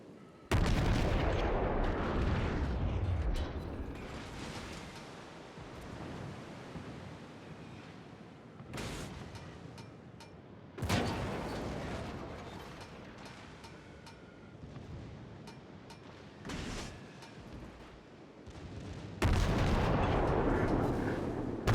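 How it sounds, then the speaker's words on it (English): Battleship secondary guns boom in a naval battle video game, with heavy, rumbling salvos firing in several separate bursts amid a constant roar of sea and battle noise. "His secondary fire is going all over the place."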